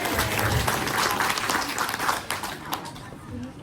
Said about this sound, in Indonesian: Tepuk tangannya, Bang.